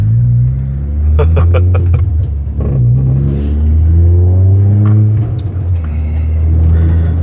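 A race car engine revs hard at an airfield, loud and close, its pitch climbing and falling through repeated throttle blips with a sustained rumbling drone.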